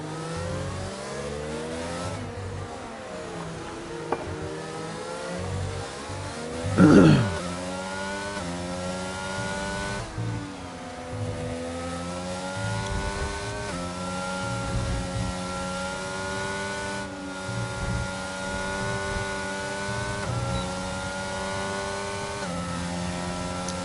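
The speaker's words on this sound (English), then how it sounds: "Can really hear Jensen working that throttle heading through the S's" A Formula 1 sim racing car engine at the Mexican Grand Prix revs continuously through the esses, pitch rising and falling as the throttle is worked on and off, with a brief louder burst midway.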